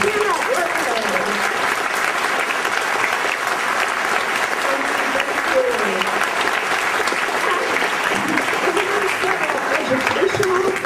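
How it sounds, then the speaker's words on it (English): A large audience at a Darwin Day event in Sacramento gives the workers a long, loud, sustained round of applause, dense and continuous throughout, with some voices and cheers mixed into the crowd. "let's have a big round of applause for the workers"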